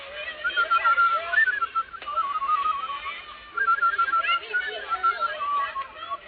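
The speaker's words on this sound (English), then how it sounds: "I hope I can still whistle." A person whistles a wavering tune in short phrases, close and fairly loud, with brief pauses between runs.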